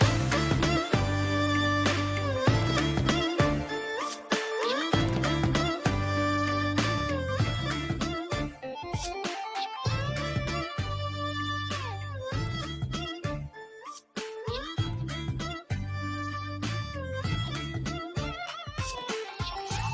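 An instrumental backing track of a Tamil song plays continuously with no singing, layered with steady beats and sustained tones throughout.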